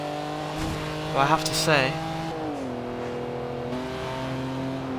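In Forza Horizon 2, a BMW's turbocharged engine hums steadily and loudly, rising briefly into a revving whine before settling back to a sustained drone, with someone speaking briefly over it.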